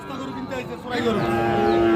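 A cow lets out a loud, drawn-out moo close by, starting low and rising into a sustained bellow amid faint background chatter and price haggling at Ambari Haat cattle market.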